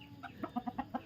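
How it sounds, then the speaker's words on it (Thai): A chicken clucks in a quick run of about six short, rhythmic clucks, faint and somewhat distant. "อุ้ยเจอไก่ไล่จับอีก"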